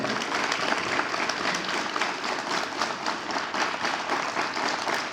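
Students at a school assembly clap together in a steady, dense rhythm, loud and close throughout, with many hands striking in unison and no talk over it.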